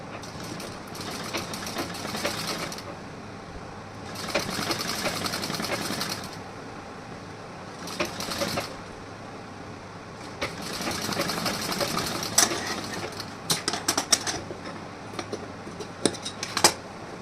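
Sewing machine stitching blouse fabric: several bursts of whirring run for a second or two each, broken by quieter pauses with small clicks and handling noises, close by and moderate in level.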